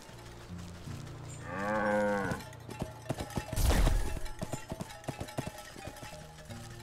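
Cow mooing in the video game Wytchwood, one drawn-out low moo near the middle, followed by a crash and a run of light hollow clip-clop knocks over quiet game ambience.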